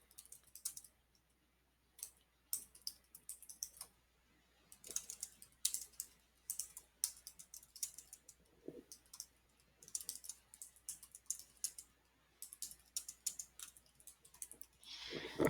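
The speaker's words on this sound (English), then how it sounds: "And then I'm going to put a description in here." Computer keyboard typing in steady bursts of close, crisp key clicks with brief pauses between phrases, no voices.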